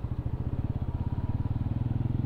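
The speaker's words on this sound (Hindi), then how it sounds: "बाकी देखो बंदे जा रहे हैं अपनी बाइक लेके।" Motorcycles pulling away on a Sunday group ride, a close, loud engine with a rapid pulsing thump, steady throughout two seconds with no talking.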